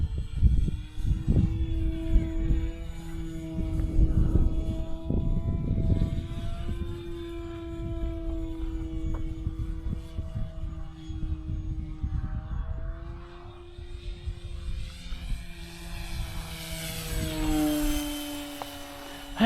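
An RC model airplane flying overhead at a club field, its engine drone shifting in pitch as it passes, steady and moderately loud throughout with no talk.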